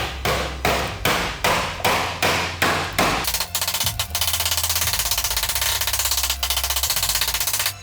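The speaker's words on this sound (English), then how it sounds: "we're gonna take our medieval meat hammer" A medieval-style meat hammer pounds steak inside a plastic bag, about seven heavy, evenly spaced thuds up close, then a fast, steady run of rapid blows.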